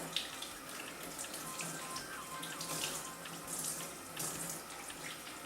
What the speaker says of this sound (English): I go ahead and run just a pinch more of that lukewarm water through